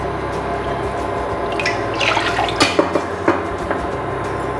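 Water pours into a pan for rava upma in a home kitchen, a splashing, gurgling fill that builds and grows louder partway through, with a few sharper splashes near the end and no talking.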